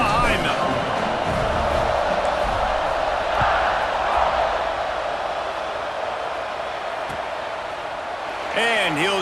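A large football stadium crowd at kickoff in a Georgia vs Alabama college game: a steady roar of distant voices and cheering fills the whole stretch, with a commentator's voice heard over it.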